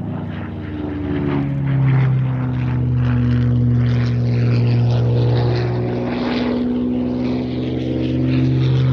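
A Supermarine Spitfire at an air race day roars with a steady, loud propeller and piston-engine drone that rises slightly and holds.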